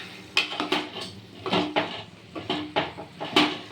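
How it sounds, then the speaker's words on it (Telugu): A spoon stirs drumstick and potato curry in a pot, giving a run of close, rhythmic clinks and scrapes, about eight separate strokes with short pauses between them, and no talking. "మధ్య మధ్యలో కలుపుకోవాలి అడుగంటకుండా ఉండడానికి"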